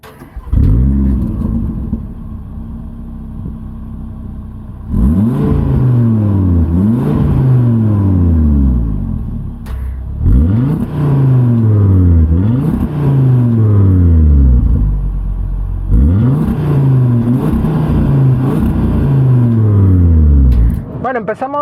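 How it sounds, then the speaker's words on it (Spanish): 2022 CUPRA Formentor VZ5 five-cylinder engine revved hard in three loud, close bursts, each rising and falling in pitch, with a steady idle rumble between them. "cuando encendamos el motor y escuchemos el rugir de este 5 cilindros que va bajo el capó de este VZ5"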